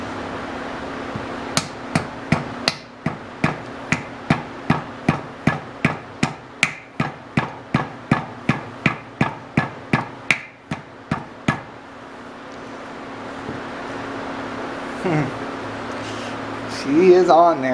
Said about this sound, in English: might need to get a real hammer and just start beating on it.